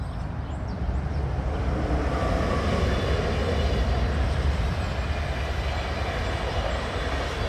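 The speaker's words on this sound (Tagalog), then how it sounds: "May tren na naman" S12 train passing by on its way to Zurich near the Limmat river in Aargau, a loud, sustained rumble and roar of the rail cars that swells and holds for several seconds with no talk.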